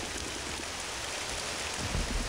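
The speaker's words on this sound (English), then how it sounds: "it's nighttime, and it's also raining and thundering" Steady, dense rainfall hisses through a nighttime thunderstorm on a workshop map in the video game Men of War Online, with a low rumble rising at the very end.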